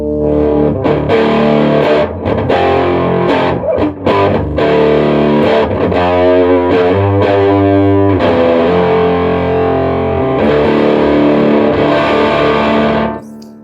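Distorted electric instrument run through a dual tank stereo reverb effect, loud sustained chords with long washy tails, choppy bursts early, then ringing sustained tones that cut off abruptly at the end.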